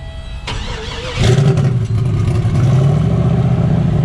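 A turbocharged car with a new torque converter cranks and catches on a hub dyno, then settles into a steady, throaty idle that rumbles on without pause.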